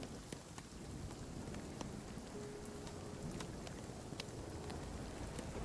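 Steady hail and rain falling in the survival game Nightingale, a dense continuous patter with scattered sharp ticks of hailstones striking surfaces, even and unbroken throughout.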